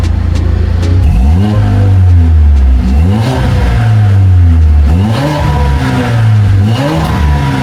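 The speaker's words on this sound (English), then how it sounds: "Okay, so this is how this car sounds." A car engine revs hard again and again, rising and falling in loud, throaty bursts from a deep, booming quad exhaust close by.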